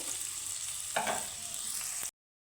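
Gathi taro pieces frying in oil in a pan give a steady close sizzle with a brief stirring scrape partway through, then the sound cuts off abruptly.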